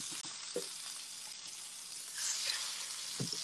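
A pan-seared mahi mahi fillet being flipped, browned and crispy, giving a steady hissing sizzle with a few soft knocks from the pan and spatula, the sizzle swelling louder after the turn, no talk.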